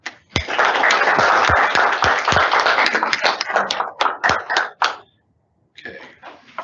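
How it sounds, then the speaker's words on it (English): A modest audience claps for presenters: brisk, dense handclapping for about four seconds thins into a few separate claps, stops, then a faint brief murmur of sound follows. "Let's give Reza and Matt Sosman a applause as they come up and plug in."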